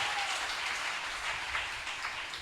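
A congregation at a church service applauds the Lord in a sustained, steady wave of clapping that fills the room and stays moderately loud throughout.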